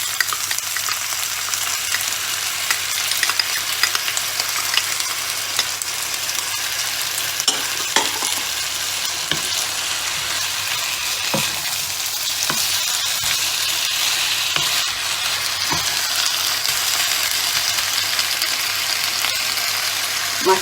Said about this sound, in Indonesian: Diaduk rata, kemudian kita masukkan kecap manis ya.